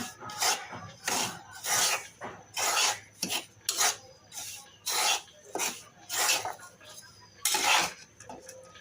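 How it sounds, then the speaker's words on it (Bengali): Rice flour dry-roasting in a pan and stirred with a utensil, giving repeated scraping and rasping strokes in a steady rhythm close by, with no talk. "আমি এই যে চালের গুঁড়িকে একটু হালকা হালকা একটু বাদামি করে ভেজে নেব"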